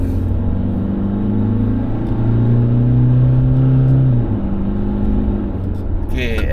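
A car on BFGoodrich KO3 all-terrain tyres accelerates in a steady, loud rising engine drone with droning tyre roar, and a brief clatter near the end.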